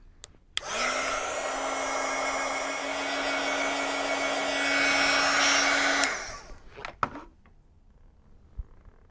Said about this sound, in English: So I'm going to dry these really quickly.